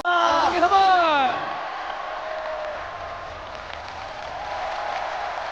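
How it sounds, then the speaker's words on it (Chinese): A studio audience at a televised Saturday variety show applauds in a steady, broad wash of clapping that follows a brief burst of loud voices and then carries on evenly. "来，掌声给他们， 给他们。"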